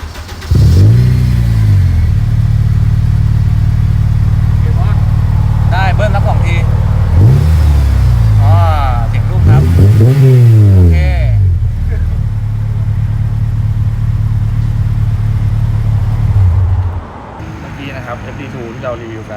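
A Honda Civic FD2R with a K20A engine starts, then revs up sharply several times in rising and falling sweeps before settling to a loud idle and cutting off, close by, with people talking over it.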